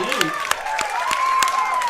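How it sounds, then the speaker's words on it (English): Crowd cheering and clapping at a high school 3A softball regional championship between Columbus and Frontenac, a steady wash of applause and shouts with sharp individual claps, under announcer talk. "take a quick break as the crowd still cheers"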